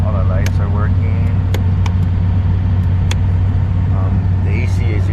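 A 1990 Ford Econoline E250 high-top camper van engine idles with a steady, loud low rumble close by, while a few brief clicks and faint chirpy sounds occur over the drone.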